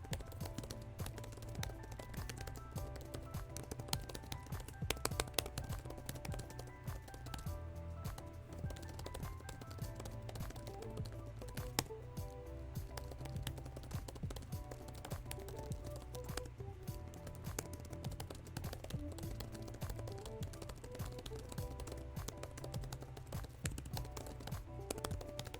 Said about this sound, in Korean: 키보드 딜레이는 전혀 없고 타건감 자체도 로지텍의 이름값을 합니다.